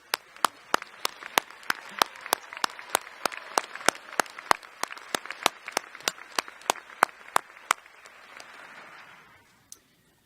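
An audience at the 2018 Maine Law graduation ceremony applauds, loud, evenly spaced claps beating in a steady rhythm over a softer wash of general clapping that fades out near the end.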